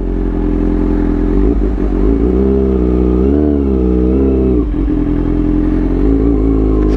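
A motorcycle rides along a zigzag road and leans into a turn, its engine droning loudly and steadily close by, the pitch rising and falling a little through the bend, with no talk.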